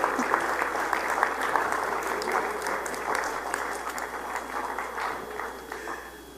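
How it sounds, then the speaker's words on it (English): A conference audience on its feet applauds itself, a dense, continuous wash of many hands clapping at moderate volume, heard from a little distance in a large room without speech on top. "Ladies and gentlemen, get up and give yourselves a round of applause"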